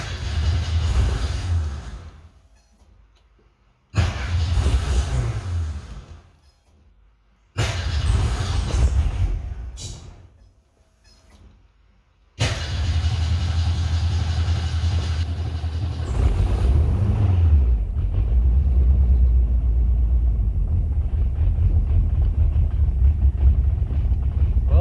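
A 1963 Ford Falcon with a turbocharged 2.3-litre engine cranks in several short bursts with pauses, then catches and settles into a steady, low, rumbling idle, loud and close.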